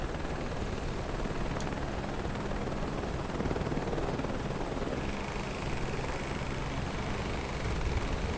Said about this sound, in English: Because I don't know if this helicopter can take this altitude.